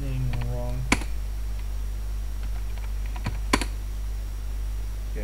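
A few isolated clicks and taps from a computer keyboard during a Tomcat install on Debian, quiet and sparse over a steady low hum.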